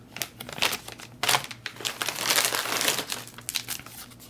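The plastic packaging of an MRE cold-weather meal accessory pack crinkles and crackles continuously as it is handled up close, swelling into denser crumpling bursts midway.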